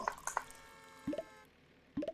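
Coffee drips and plops from an espresso machine pulling a double shot in the Barista Sim video game, several distinct close droplets in irregular bursts with a faint ringing tone between them.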